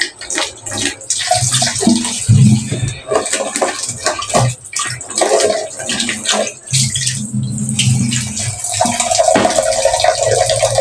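Peeled shallots and garlic being washed in water in a kitchen basin, with continuous splashing, sloshing and rustling of the bulbs, close and fairly loud throughout.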